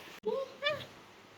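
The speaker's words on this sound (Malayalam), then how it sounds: "ഇവിടൊക്കെ പൂച്ചയൊക്കെയാ പൂച്ച ഓടിച്ചു വിട്ടയാ" A cat gives two short, close meows in quick succession, with steady rain noise in the background.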